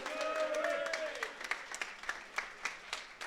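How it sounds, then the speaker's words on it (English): An audience at the Regen 2022 esports tournament claps after a voice briefly speaks, the applause thin and scattered, with distinct individual claps spaced out rather than a full ovation. "Round of applause for those guys"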